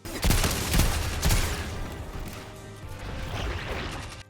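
Gunfire in Destiny 2 during a Trials of Osiris match on the Burnout map: three loud, close bursts of shots, then a continuous rumbling spray of fire trailing off, with no talking.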